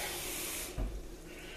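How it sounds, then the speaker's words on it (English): Half a cup of water is poured from an onion bowl over potatoes in a roasting pan for a pork roast, a soft splashing hiss that breaks off, followed by a brief low thump and a faint residual trickle. "I put about a half a cup of water into my bowl where I just had my onion, and I just kind of put it around on top of the potatoes."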